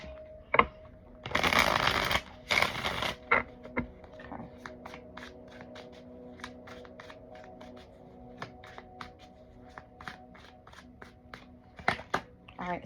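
A deck of tarot cards is riffle-shuffled in a humid room: two loud rippling bursts of cards flicking together, followed by a long series of light, evenly spaced card taps and snaps, with faint talk in the background.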